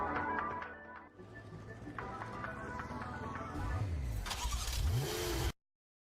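Ferrari FXXK engine sound effect from the game Neverness to Everness, a car engine starting and revving with rising and falling pitch sweeps, loud and close, cutting off abruptly near the end, with voices and game audio mixed in.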